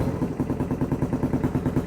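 A three-wheeler motorcycle engine idles close by just after starting, a low, pulsing rhythmic putter with regular beats and no choke, running steadily.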